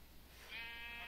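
A single sheep bleat from the video game Minecraft, a short wavering cry that swells briefly over faint background noise, quiet and alone without speech.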